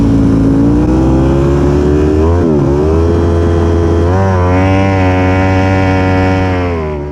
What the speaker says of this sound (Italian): In pole position Gini con la sua Yamaha R1, affiancato dalla Ducati Street Fighter V4 SP di Luca Salvadorin.